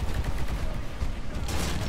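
A heavy turret in the video game Titanfall fires a dense, continuous burst of rapid gunfire, loud and unbroken across the whole moment.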